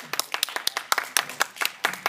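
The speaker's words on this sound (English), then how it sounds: "with a round of applause" A short burst of applause at a high school debate, several people clapping in a quick, uneven patter, fairly close, with no voices.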